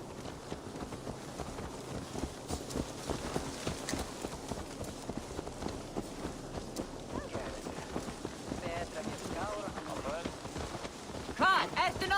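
Horse hooves clip-clop in the Assassin's Creed Valhalla video game, a steady rhythmic trot blended with a rain-like hiss and light wind, moderately close, with faint voices in the background.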